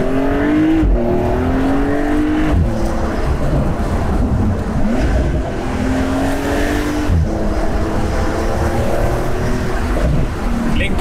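Porsche 911 Carrera S Cabriolet with its turbocharged engine, driven roof-down on a country road, revving loud and near through several rising pulls and gear changes, the engine note dominating throughout.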